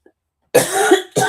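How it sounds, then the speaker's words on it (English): Two sharp, close coughs from one person, the first longer and harsher, the second starting just after a brief pause. "Not sure what's with all the coughing"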